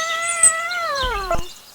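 A single drawn-out cat meow, close and clear, its pitch sliding downward toward the end, with a couple of soft bumps in the background.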